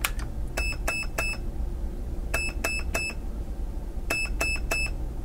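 A Perun AB++ MOSFET in programming mode gives high electronic beeps in three groups of three, evenly spaced and clear over a steady background hiss.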